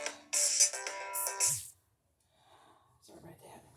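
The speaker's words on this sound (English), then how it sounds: "Oh, my phone's ringing." A mobile phone rings with a bright, melodic ringtone for under two seconds, then cuts off into quiet breathing and soft movement nearby.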